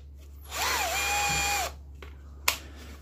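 A Parkside cordless drill spins up briefly, a bright whining whir that rises, holds for about a second, then stops, followed by a sharp click.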